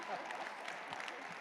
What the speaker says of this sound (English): Give them another round of applause, please, for Ashley and Ryan and Michaela